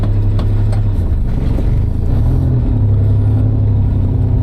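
A Daihatsu Mira L80 with a 660cc turbo engine and automatic gearbox being driven, its steady low engine drone and road rumble filling the cabin closely and evenly throughout.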